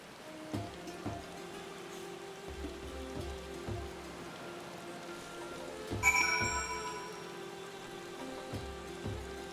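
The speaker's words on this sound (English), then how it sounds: "Yeah, you realize it's raining" Soft, steady in-game rainfall in Final Fantasy XIV patters quietly with scattered droplet ticks, while faint low music tones and a brief chime-like burst sit in the background.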